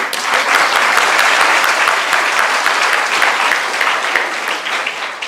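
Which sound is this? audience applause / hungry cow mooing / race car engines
audience applause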